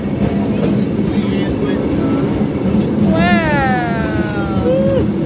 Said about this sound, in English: We're getting on a freaking trolley.